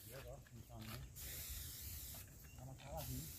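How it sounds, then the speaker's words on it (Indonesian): Pressurized sprayer hissing as fungicide is misted onto California papaya plants in an orchard, in two long bursts with a pause between, while people talk nearby. "Jadi ini sekarang disemprot menggunakan fungisida lur ya."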